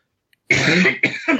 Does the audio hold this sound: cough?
yes